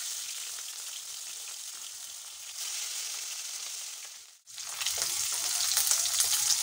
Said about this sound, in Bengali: তেল গরম হয়ে গেছে। তেলে আমি মাছ দিয়ে দিচ্ছি।